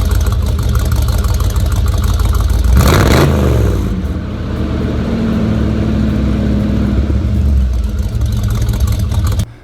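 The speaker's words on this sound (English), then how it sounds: "This exhaust actually sounded pretty good." A car with a homemade true dual exhaust system and MagnaFlow mufflers rumbles loudly close by, with a sharp rev partway through before it settles back into a deep, steady idle.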